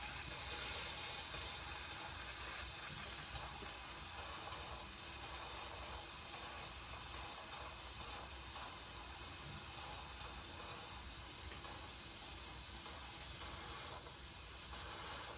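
An electric pressure cooker with a pot roast and rice inside vents its built-up pressure, producing a steady, loud, broadband hiss of escaping steam that runs continuously without pause.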